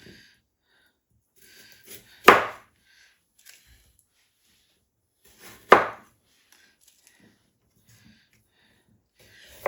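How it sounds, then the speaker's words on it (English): A knife cuts garden-grown carrots on a board for chicken soup, giving two sharp, isolated chops a few seconds apart, close and crisp against near silence. "next we'll cut these carrots up"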